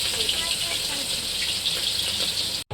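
Oil hissing and sizzling in a pan on a home kitchen stove, a steady broad crackle holding evenly throughout before cutting off abruptly near the end.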